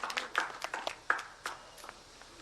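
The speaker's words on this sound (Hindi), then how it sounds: "जोरदार तालियां।" Hands clap in a brief burst of applause at a scheme launch ceremony, a scattering of separate claps that thins out and fades within a couple of seconds, fairly quiet and without voices.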